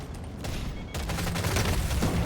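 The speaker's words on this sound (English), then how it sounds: "Let's go with grenade launcher." Rapid bursts of grenade launcher fire in the video game Deep Rock Galactic: Survivor, a dense continuous barrage of booming shots that thickens after the first second.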